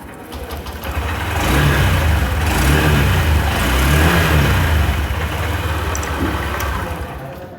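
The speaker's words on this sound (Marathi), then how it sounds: "शोरूमच्या आतमध्ये फक्त गाडी असते तुम्हाला फक्त साऊंड ऐकून दिला" A 2025 Honda Shine 125 motorcycle engine revs up from idle, swelling to a sustained loud drone around the middle, then easing back slightly while still running.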